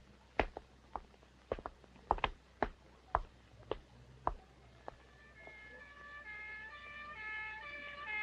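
A series of sharp, separate clicks and knocks gives way to a police car siren that rises faintly in the distance and wails in repeating tones toward the end.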